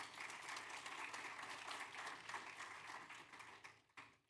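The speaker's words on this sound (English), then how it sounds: "Please give us a round of applause for him." Audience applause at an Imam Hussain Day community event: sustained clapping from a crowd, fairly faint and distant, steady for several seconds before tapering off.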